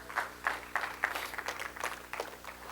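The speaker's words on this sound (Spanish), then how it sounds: "¿Cuántos le dan un aplauso al Señor?" Applause at a church service, a group of people clapping at a moderate distance in an irregular burst that stays fairly soft throughout.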